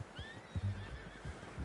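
Horse in Red Dead Redemption 2 giving a faint, quiet whinny with a short low snort, along with a few soft hoof sounds.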